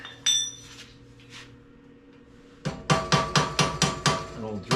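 An old drill bit is pounded with a hammer to drive a part out of a 1970 Schwinn Collegiate or 1965 Schwinn Varsity bicycle: after a quiet stretch with a couple of faint knocks, seven sharp, evenly spaced metallic strikes ring out close and loud.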